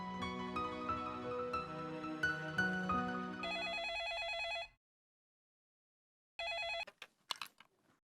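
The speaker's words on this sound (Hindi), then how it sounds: "जाके देखो किसका फोन है" A telephone rings indoors in a household scene, a loud electronic ringtone that repeats for several seconds, stops, then starts again briefly before a few clattering handling sounds, with no talk over it.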